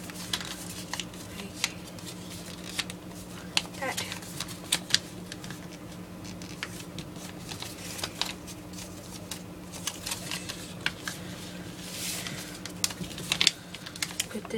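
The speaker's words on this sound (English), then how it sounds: "Fold this one over in half." Paper being folded into a ninja star, soft crinkling and tapping with small sharp rustles and creasing clicks, close and quiet.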